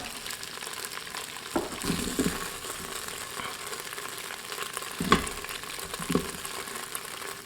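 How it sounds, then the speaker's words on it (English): Onions sautéing in the pot of a pressure cooker after browned beef has been removed, a steady soft sizzle with a few scraping stirs and light clinks, fairly quiet and without talk. "when I get done sauteing these onions"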